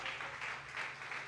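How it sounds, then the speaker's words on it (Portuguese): A church congregation applauding during a prayer service, with a brief, soft, steady wash of clapping and no distinct voices. "Pode aplaudir,"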